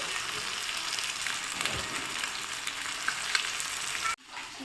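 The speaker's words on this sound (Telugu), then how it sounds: "ఫ్రెండ్స్, పీసెస్ అన్ని ఫ్రై అయిపోయాయి ఫ్రెండ్స్." Pieces of fish, from a batch of about four kilograms, fry steadily in hot oil with a dense, continuous sizzle close by, which cuts off abruptly near the end.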